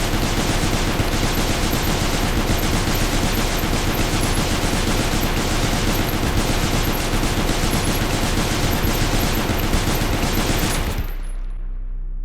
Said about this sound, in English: So let's just mag dump them.